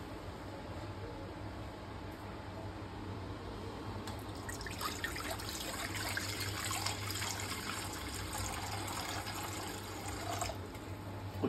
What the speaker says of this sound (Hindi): कुछ इस तरह से पानी ऐड करने के बाद